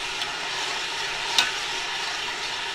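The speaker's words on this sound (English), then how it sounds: "That's the sound of the vinegar getting hot." A steady, even sizzle of vinegar with sugar heating in a pot for squash relish, a constant crackling hiss with one brief sharp tick partway through.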